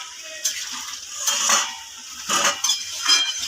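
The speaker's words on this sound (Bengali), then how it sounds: "এখন এটা ঢাকাটা খুলে দেখে নেব।" A metal lid lifted off a pot of eggplant vegetable curry, with clinks and scrapes of metal cookware and utensils, a few separate knocks over a faint background, no talk.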